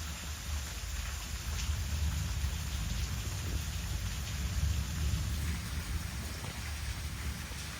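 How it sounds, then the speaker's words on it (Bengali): Steady rain falling outside, a continuous dense hiss of drops with no pauses and no voices. "এখন হচ্ছে বাইরে বৃষ্টি পড়তেছে।"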